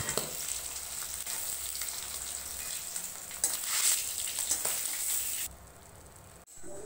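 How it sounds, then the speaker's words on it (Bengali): Pangas fish fries in hot oil, a bright continuous sizzle with crackling spits that flares louder midway, then cuts to a quieter hiss near the end. "মাছটা আমি বেশি ভাজবো না, অল্প করে ভেজে নিয়েছি"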